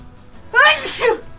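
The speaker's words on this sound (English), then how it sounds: "I have to sneeze." A single sharp sneeze, close and loud, preceded by a faint breath.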